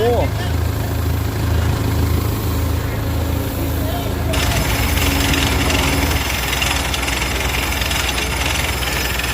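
A loud engine roars and chugs steadily while an air-powered borehole drilling rig rattles and hisses with forced air, its tone shifting midway; someone talks over it in Thai.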